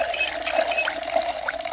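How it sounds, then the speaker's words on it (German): Water runs from a kitchen tap into containers in Project Zomboid, a steady close splashing flow with faint gurgles, no voices. "Befüllen alles mit Wasser."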